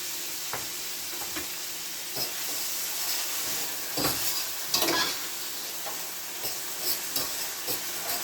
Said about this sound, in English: Now I put my saltfish in the pot because the season is cooked already.